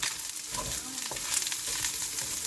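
Pork frying in a pan while being stirred, a steady close sizzle with scraping stir strokes and no talking.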